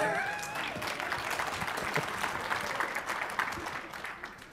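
A crowd applauds steadily for several seconds, a dense wash of clapping hands with no voices standing out.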